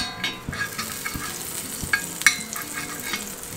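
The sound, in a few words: butter sizzling in a hot pan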